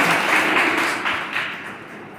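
Audience at an honouring ceremony held under the Akhand Bharat Shaktipeeth Trust applauds in welcome, a dense, steady wash of clapping that runs throughout at moderate loudness.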